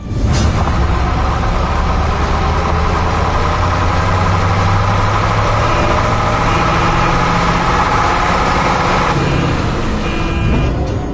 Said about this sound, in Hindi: ट्रक तेज हॉर्न मारता हुआ बारातियों के बीच से गुजरता है